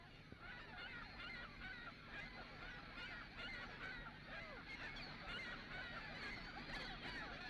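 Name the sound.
ring-billed gull colony calling at Leslie Spit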